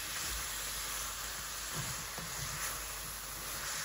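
Okra and ridge gourd frying in a pan, a steady broadband hiss of sizzling oil that continues evenly throughout, with faint low clinks underneath and no talk.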